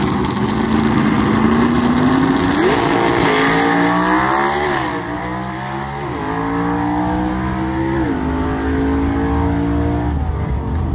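An early-1960s Comet gasser drag car revs hard at a drag strip, its engine climbing through repeated rising pulls with sharp shifts, loud and close throughout with no talk.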